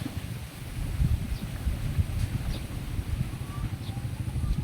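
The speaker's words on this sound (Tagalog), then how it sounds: "Malakas ang hangin." Steady, heavy wind rumble buffets the microphone, a dense low roar with no pauses, loud and continuous throughout.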